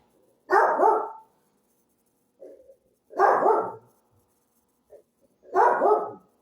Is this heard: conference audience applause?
no